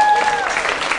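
Brief burst of audience applause at a cabaret performance, clapping from a crowd with a voice briefly audible at the start.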